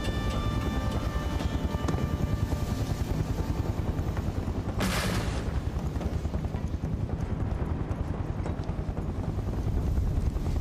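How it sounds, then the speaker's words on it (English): A helicopter in Final Fantasy 7 Remake thrums with a steady, rapid rotor beat throughout, loud and constant, with a brief whooshing swell midway. "Besides the helicopter, it's a little too quiet."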